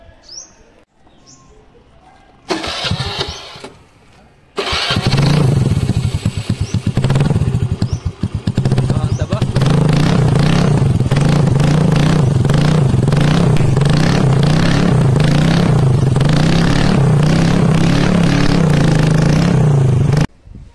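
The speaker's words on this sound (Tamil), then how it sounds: "Silencer muffler கழட்டியாச்சு. ஸோ இப்போ சவுண்ட் வந்து எந்த அளவு வரப்போகுதுன்னு தெரில." A Honda Dio scooter with its silencer removed is started, then revved hard and kept running with a loud, rough, unmuffled roar for over fifteen seconds.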